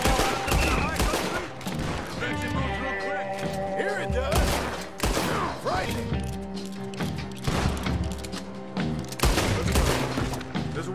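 Gunfire fills a Red Dead Redemption 2 scene with repeated loud, close shots and rapid volleys over a dense mix of clatter and mechanical noise, with voices heard between the bursts.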